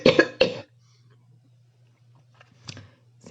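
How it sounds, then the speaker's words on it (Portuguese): Two close, loud coughs from a woman with a sore throat reading scripture aloud, followed by quiet room hum and a fainter cough or throat-clear near the end. "Vocês me perdoem, mas não tem como não tossir."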